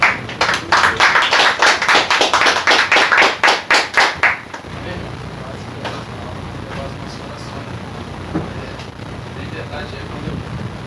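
A church congregation claps in a steady, rhythmic beat during a worship service, loud and close for about four seconds before the clapping stops and leaves a quiet room hum.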